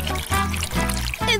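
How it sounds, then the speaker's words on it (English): Boiling water being poured over fruit in a kitchen to make juice, a close, continuous splashing pour that briefly breaks into separate gushes. "I'm going to pour some boiling water over it to make some juice"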